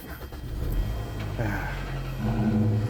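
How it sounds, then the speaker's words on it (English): A 2011 Hyundai Sonata engine turns over and catches, settling into a steady low idle with a brief rev, close by and fairly loud. "we're gonna go ahead and start her up"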